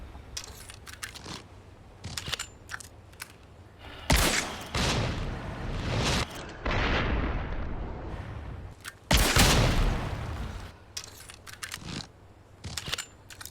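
An explosive arrow weapon in the Resident Evil 4 Remake fires and blows up in loud, booming blasts, some followed by long rumbling tails, with sharper clicks and pops in between.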